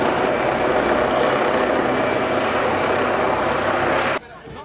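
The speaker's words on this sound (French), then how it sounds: "Un hélicoptère de la police survole la zone." A police helicopter flies over a city street where a demonstration has turned violent, its rotor and engine drone loud and constant before dropping off abruptly near the end.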